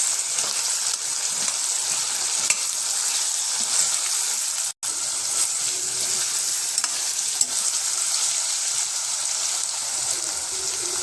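Mixed vegetables fry with ginger garlic paste for a restaurant-style veg biryani, giving a steady, loud broadband sizzle with occasional stirring scrapes and one brief dropout midway, no talk.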